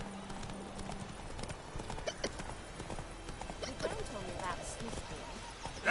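Roach the horse trots in The Witcher 3, a steady run of hoof clip-clops with a brief whinny, set under music and short bits of speech.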